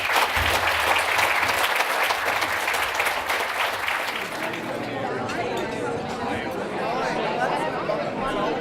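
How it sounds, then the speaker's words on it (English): Audience applause at an awards dinner, loud and sustained across the whole stretch, with a murmur of crowd chatter and faint clinks beneath it. "I ask you to give all of them a round of applause"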